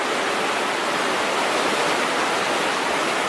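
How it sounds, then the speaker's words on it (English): A river flows far below in Afghanistan mining country, heard as a steady, even roar of rushing water with no voices, uniform from start to finish. "The river is down there."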